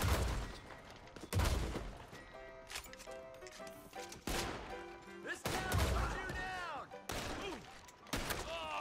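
Gunfire in the video game Red Dead Online during a shootout at the Blackwater Saloon, with loud close shots in bursts separated by short gaps, mixed with clatter and in-game voices and shouting.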